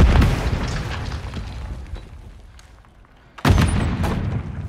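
A grenade detonates in the first-person shooter Modern Warfare 3 during an objective-capture match, a loud booming blast that rumbles and fades over about three seconds before a second heavy explosion bursts in close by.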